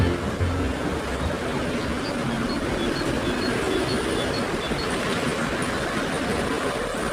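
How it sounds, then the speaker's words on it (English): A toy train runs steadily along its track, giving a continuous, even rumbling rattle that holds at a moderate level throughout with no voices. "Start train."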